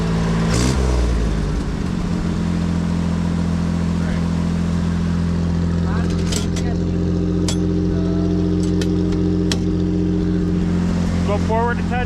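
A 1969 first-generation car's engine idling fast and steady with strong low harmonic hum, a brief throttle blip at the start, and people talking over it in a garage setting.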